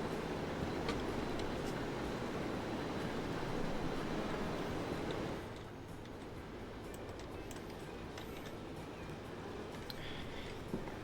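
Trains run in a Transport Fever 2 railway simulation, a faint, distant rolling rumble with light ticking clicks that grows quieter about halfway through.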